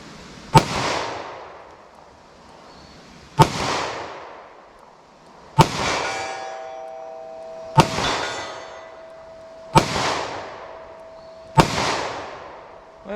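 Six .327 revolver shots ring out against steel targets at a 75-yard range, each a sharp crack spaced two to three seconds apart, with a metallic ring of steel lingering after several hits.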